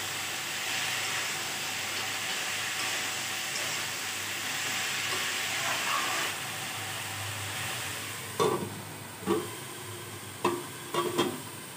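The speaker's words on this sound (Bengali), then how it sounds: "এখন একটু নেড়ে চেড়ে 3 মিনিট ঢাকা দিয়ে রেখে দিই" Egg and pointed gourd frying in a pan, a steady soft sizzle that gives way near the end to a few distinct stirring knocks and scrapes of a spatula, close and without talk.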